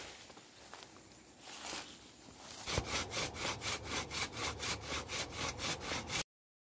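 A hand saw cuts through small pieces of wood outdoors beside a kitul palm being prepared for tapping, starting with faint rubbing, then a steady rhythm of about a dozen rasping back-and-forth strokes, close and alone.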